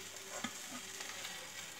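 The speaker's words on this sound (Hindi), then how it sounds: "30 सेकंड के लिए हम दूसरी साइड से फ्राई करते हैं।" A cheese omelette fries in a pan with very little oil, giving a steady, soft sizzle with one brief louder crackle near the start and no voices.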